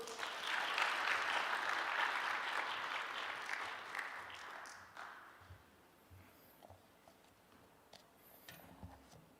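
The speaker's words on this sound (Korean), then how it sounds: "여러분의 귀한 감사의 박수 정말 감사드립니다" A church congregation gives a burst of applause at a Sunday worship service, dense and loud for about five seconds before fading into scattered claps and room murmur.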